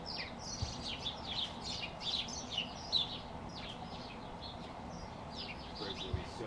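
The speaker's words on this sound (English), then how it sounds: "there's just a ton of birds just chilling right here in front" Small birds chirp and tweet in repeated short bursts outdoors in front of a workout spot, fairly faint against a low background murmur that may include distant voices.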